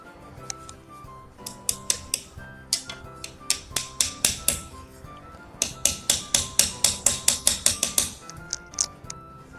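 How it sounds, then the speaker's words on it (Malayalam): A hammer drives a nail into a wooden Christmas crib frame, making loud, sharp, steady taps that come in repeated bursts with short pauses between them. "ഇവിടെ ഒന്ന് ആണി അടിച്ചു കൊടുക്കട്ടെ"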